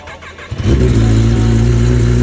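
A Kawasaki ZX-10R motorcycle engine cold starts, cranking and firing up after a brief starter whir, then settling into a loud, steady rumbling idle close by.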